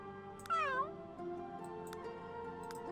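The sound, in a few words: cat meowing in video game The Sims 3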